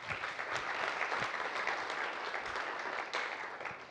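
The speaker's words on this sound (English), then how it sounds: "Why don't we give them a round of applause?" Audience applause at a leadership event, dense and steady clapping from a room full of people, sustained throughout at moderate level with no voices on top.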